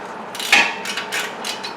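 Straight ratchet breaking loose 17 mm caliper bracket bolts on a 2012-2019 Honda Accord during front brake work, a short series of close, crisp metallic clicks and rasps with no talk.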